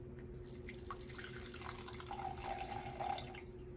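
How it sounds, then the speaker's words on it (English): Water poured into an empty cup, a faint soft trickle and splash that builds toward the end over a steady low electrical hum. "if I pour in some water"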